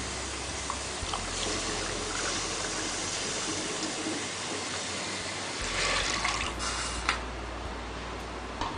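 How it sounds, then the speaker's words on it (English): Water pours steadily onto mango pulp in a pressure cooker, a close, continuous splashing hiss that runs for several seconds and swells slightly near the end, with no talk over it. "Add the mango pulp and we are going to add a cup of water to it."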